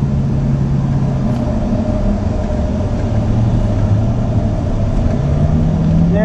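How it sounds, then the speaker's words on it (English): A 2009 Cadillac CTS-V on a test track shifts down automatically into sport mode, its engine droning loud and steady throughout, pitch dipping then climbing again as revs rise near the end. "There, it did the downshift by itself, and now it's in sport mode."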